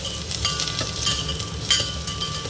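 Onion, chili and curry leaves frying in hot oil for a Tamil brinjal and peanut kuzhambu, with a steady close sizzle, soft crackles and a few brief spatters. No one speaks.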